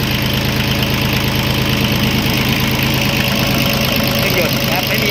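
A Yanmar YM2001D diesel tractor engine idles steadily, with a loud, even chugging and a faint knock repeating throughout, heard close up and alone with no voice.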